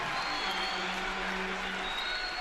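A crowd at a men's college basketball tournament game cheers and applauds in a steady roar inside the arena, sustained for the whole stretch.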